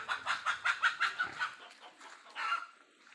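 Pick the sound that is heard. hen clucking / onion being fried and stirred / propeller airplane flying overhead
hen clucking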